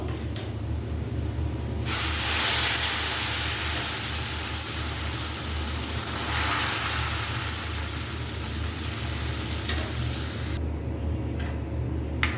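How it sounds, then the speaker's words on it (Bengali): Lentils hit a pan of fried garlic and onion and erupt into a loud, steady sizzling hiss that swells and eases over several seconds, close by and without talk. "এই পর্যায়ে আমি ডালটা দিয়ে দেবো"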